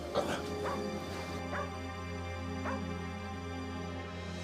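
A dog barks and yelps several times at a closed door, fairly close, with whimpering between the barks over a low steady hum.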